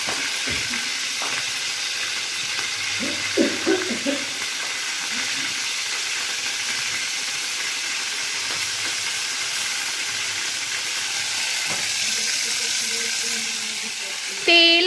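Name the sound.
lemons sizzling in hot oil for pickle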